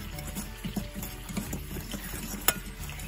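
Cut potatoes and onions are stirred together in a bowl for a down-home fried potato dish, making a steady, quiet scraping and tumbling with soft clacks and one sharper knock near the end.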